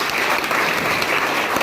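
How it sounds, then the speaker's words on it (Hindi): Loud applause from a school audience at a quiz contest, a dense sustained clapping close up with no voices over it. "जोरदार तालियां"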